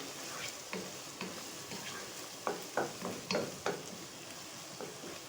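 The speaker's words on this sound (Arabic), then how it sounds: "البصل اهو لسه بياخد اللون الذهبي" Onions frying in a pan while stuffing filling is prepared for mahshi: a soft, steady sizzle underneath, broken by several louder stirring scrapes in a cluster toward the middle. No voices.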